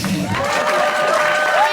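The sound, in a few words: audience applause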